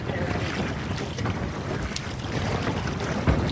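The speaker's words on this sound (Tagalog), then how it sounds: "Ang lakas ng hangin." Strong wind roars steadily across the microphone on a small paddled boat at sea in shallow crab-fishing waters, a continuous loud gusty rush with faint water sounds beneath and no clear talk.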